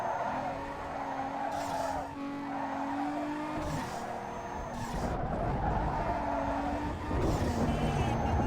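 In the racing game Need for Speed Underground 2, a car drifts with a steady engine drone and long tire squeals that come and go over several seconds at moderate loudness.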